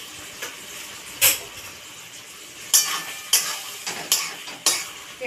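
A spoon stirs chilli chicken with green chilli and Kashmiri chilli powder in a frying pan, with a handful of sharp scraping clinks against the pan over a soft steady sizzle.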